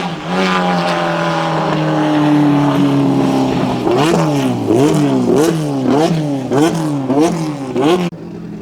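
A Jowett Jupiter car engine revs hard, first a steady drone, then several sharp rising-and-falling revs in quick succession, loud and close.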